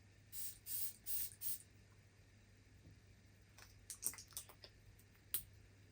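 Four quick hissing spritzes of a perfume spray bottle in a row, followed by a few soft clicks and taps and one more short spray.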